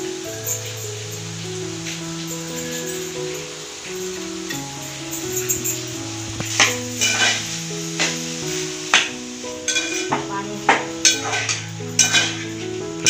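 Grated fresh coconut goes into melted ghee in a pan for coconut burfi, with soft sizzling and stirring scrapes that grow in the second half under steady background music.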